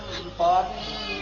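A cat gives a single short meow partway through, rising out of a steady background hum with faint voices.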